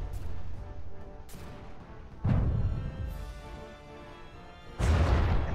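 Heavy artillery fire booms from warships battling in the From the Depths video game, with several deep, loud blasts spaced a second or two apart over a rumbling background.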